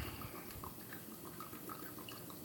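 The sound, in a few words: pouring teriyaki marinade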